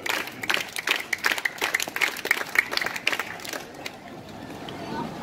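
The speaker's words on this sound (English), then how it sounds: "Clap! Clap! Clap! Clap!" A street crowd at a juggler's show in Melbourne claps together in a steady rhythmic beat, sharp claps mixed with crowd noise, fading into looser background murmur toward the end.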